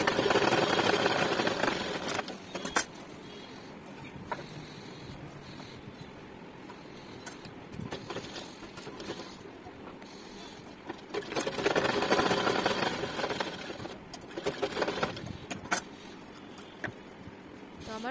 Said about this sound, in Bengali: এবার হাতাটাকে পুরো আমি জুড়ে ফিটিংস অনুযায়ী সেলাই দিয়ে দেবো।